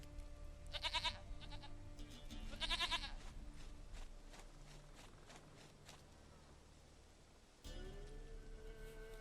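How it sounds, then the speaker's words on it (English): A goat bleats twice in The Witcher 3, short wavering calls close together early on, set against a steady low game ambience with no voices. "goat of mine, dearest, sweetest goat."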